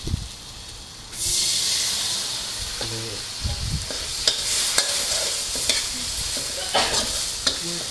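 A burst of hissing sizzle erupts after a quiet start as a little water hits a hot stir-fry pan, continuing steadily with occasional clanks of a utensil against the pan.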